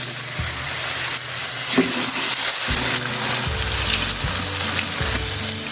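Cornflour-coated chicken pieces fry in a preheated pan with a steady, loud sizzle, while bursts of crackling and a few stirring knocks break in as the pieces settle.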